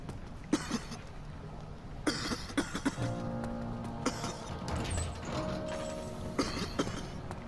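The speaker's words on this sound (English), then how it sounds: "That's not actually killing me, luckily, it's just making me cough." A character in Amnesia: The Dark Descent coughs repeatedly in the sewers, with short sharp coughs and throat clearing over a grinding, gear-like mechanical background.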